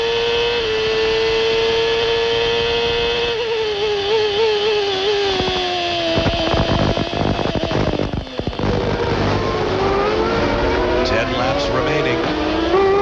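A Formula 1 race car engine at the 1994 Canadian Grand Prix screams loud and high, its pitch rising and falling through gear changes, with a commentator talking over it.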